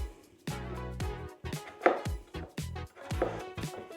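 A chef's knife slices raw potatoes into chips on a board, giving several crisp, close chopping strokes with short pauses between them.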